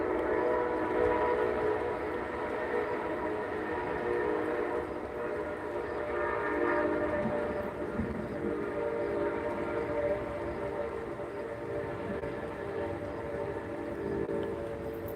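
A train rumbling past at a distance, a low steady roll of wheels on track with a long, sustained horn blast sounding over it.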